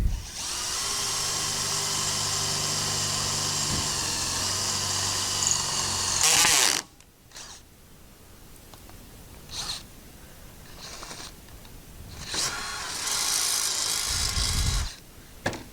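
A power drill with a cutting-fluid-lubricated bit whines steadily as it bores through metal for a Wild Boar rear bumper on a Polaris Ranger XP1000 for several seconds, then stops; a few quieter clicks and rustles follow, with another brief burst near the end.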